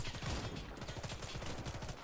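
Rapid bursts of gunfire from the video game Warface, with sniper shots among dense, continuous firing that stays loud and steady throughout.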